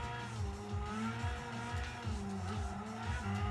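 A race car engine in Gran Turismo 5 on PS3 drones steadily at high revs, its pitch hovering and rising slightly as it maxes out against a poorly tuned gearbox, with a continuous loud whine and no talk.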